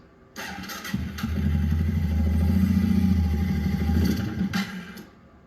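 Suzuki King Quad 700/750 AXI ATV on a cool 55°F day cranks briefly, catches and runs with a loud, rough idle for about three seconds, then abruptly stalls and falls silent.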